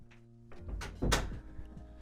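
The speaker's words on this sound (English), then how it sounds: "Close door, please." A door being closed indoors at night, heard as a dull thunk with a brief louder impact in the middle, close by and without talk.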